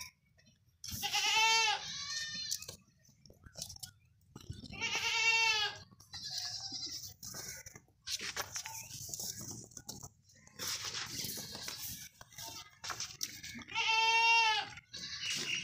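Goats with their kids trot behind their mothers at a goat market, giving several loud close bleats in separate bursts with quieter shuffling and pattering between them.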